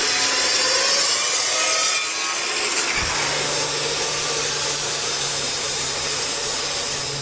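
A coilover shock part being cut down to length: a loud, continuous, rasping cutting noise that holds steady for several seconds, with a lower hum joining partway through.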